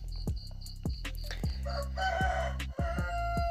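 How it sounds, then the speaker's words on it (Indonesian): A rooster crows at night indoors, a loud drawn-out cock-a-doodle-doo with a few short clucks, close by and clear with no talk over it, while small taps sound during a Samsung J2 Prime touchscreen repair. "Itu ayam ya."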